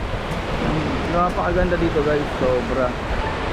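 Sea waves at a beach in Batan, Aklan, a broad steady wash of surf mixed with wind on the microphone, with someone speaking over it.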